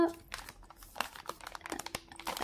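Crinkly plastic packaging of a LEGO DOTS bracelet being opened by hand, a quick run of soft crackles and rustles close up, fairly quiet.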